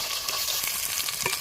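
Chopped large onions sizzle and crackle in hot groundnut oil for a Bakrid biryani, a loud, close, continuous frying hiss with faint stirring scrapes.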